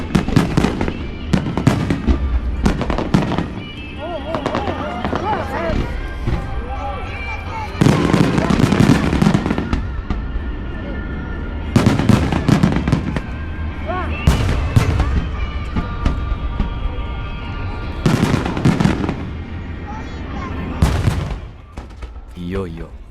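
Repeated fireworks bursts over one of the Fuji Five Lakes, booms and crackles in clusters, loud and continuous over a rumbling background, with a crowd murmuring underneath.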